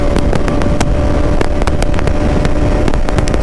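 A Bajaj Pulsar NS 200 motorcycle engine roars loud and close while riding, with constant wind buffeting and sharp sporadic pops over the steady drone.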